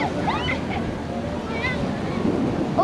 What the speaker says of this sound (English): So the waves are pretty mellow, or should be in theory.